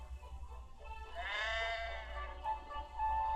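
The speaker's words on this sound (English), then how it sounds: "Some careless sheep had strayed onto the line." A sheep bleats once, a long wavering cry rising then trailing off, fairly close over a low rumbling background, with a fainter second call near the end.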